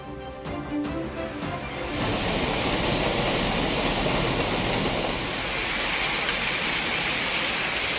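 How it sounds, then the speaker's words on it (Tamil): Water roars down the Silver Cascade waterfall in the Kodaikanal hills after rain. A brief musical sting gives way to a loud, steady, full-bodied rushing roar. "வெள்ளியருவியில் ஆர்ப்பரித்து கொட்டும் நீர்."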